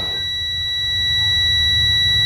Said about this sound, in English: So my light came on and you can hear the audible alarm.